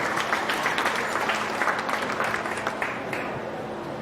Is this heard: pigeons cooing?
no